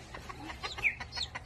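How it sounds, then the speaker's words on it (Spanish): Chicken sounds, a short burst of quick, faint repeated peeps and clucks close by, with no talking. "¿Cómo dicen los pollitos?"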